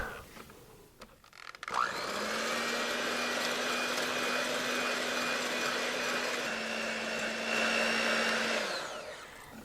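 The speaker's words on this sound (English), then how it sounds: "I'm just going to use my whisk attachment on my electric hand mixer and beat this until we get soft peaks." An electric hand mixer with a whisk attachment beats whipping cream for a Christmas candy cane pie, a steady loud motor whine running continuously for about eight seconds after a brief clatter at the start, with no talking.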